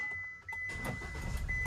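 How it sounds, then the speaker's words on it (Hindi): A car engine turns over and catches during a first-time driving lesson, opening with a faint electronic beep before a broad mechanical roar swells up and continues into a steady idle. "गाड़ी स्टार्ट कर लेनी है।"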